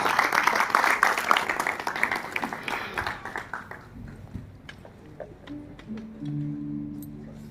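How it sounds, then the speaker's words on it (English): Audience at a classical music evening in Patiala applauding as the musicians take the stage, a dense round of clapping that fades after a few seconds into scattered claps and quiet, with brief faint tones near the end. "please give a huge round of applause to encourage and honor the artists as they take the stage"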